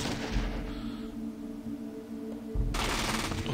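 Gunfire rattles through combat in the Fallout video game, dense bursts of shots over a continuous noisy game soundscape, with sharp volleys at the start and end.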